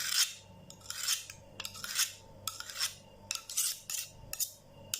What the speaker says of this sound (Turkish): Bunları almak için bıçağımızı düz, düz sürtüyoruz